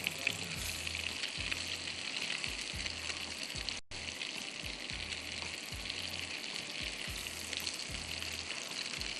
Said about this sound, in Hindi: बहुत तेज़ पे नहीं फ्राई कीजिए